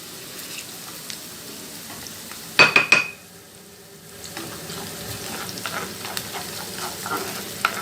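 Potato filling with pepper paste is stirred in a pan: a sharp metal clatter and scraping burst, a brief pause, then soft continuous sizzling and gentle stirring nearby, with no voices.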